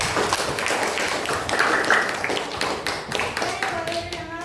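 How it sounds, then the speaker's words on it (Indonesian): A small group claps for themselves at the end of a meeting, a short spell of close, uneven applause that fades out toward the end. "coba berikan aplaus pada diri kita masing-masing"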